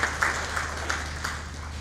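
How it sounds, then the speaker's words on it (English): Audience clapping for arriving guests at a civil luncheon honoring a retired colonel, steady distant applause with a few sharper claps, heard alone. "please don't stop clapping"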